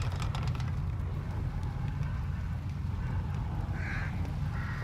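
Crows caw in a tense corridor scene of the horror video game The Evil Within, with a couple of short, harsh calls near the end over a constant low droning background.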